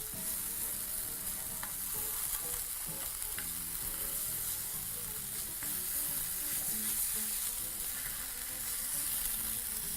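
Vegetables tossed in a pan sizzle and fry gently over very low heat, a steady close crackle with occasional light stirring scrapes, continuous and without voices.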